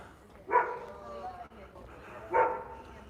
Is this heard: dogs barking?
yes